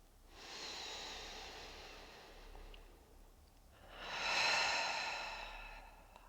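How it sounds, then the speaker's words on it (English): Two slow, audible breaths during a yoga stretch for legs and glutes, each a soft, airy rush, the second fuller and louder, with a quiet pause between them and no talking. "Take 2 more breaths."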